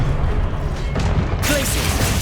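A Confringo fire spell blast in the video game Hogwarts Legacy, heard as a dense crackling burst over a steady low rumble of game sound, with a brighter surge about halfway through.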